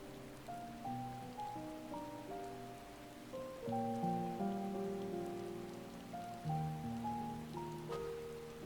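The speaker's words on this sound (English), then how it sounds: "I'm not sure rain should be possible in this kind of terrain." Rain falls steadily in the Final Fantasy XIV Endwalker video game as a soft, constant hiss. A gentle, melodic music score plays throughout on top of it.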